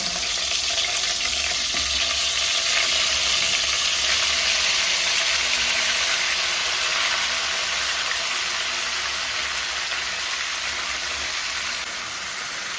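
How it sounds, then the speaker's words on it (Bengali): Marinated chicken pieces fry in mustard oil for handi chicken, a loud, dense, continuous sizzle and crackle held close and steady throughout, with no voices. "এবারে আমি এই চিকেনগুলোকে ভাজতে দিয়ে দেব"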